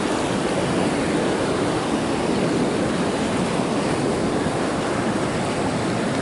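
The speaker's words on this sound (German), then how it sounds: "Also da kommen momentan ganz schöne Wellen." Steady roar of sea waves and surf off the Mexican coast, a constant dense wash of water noise with wind buffeting the microphone throughout.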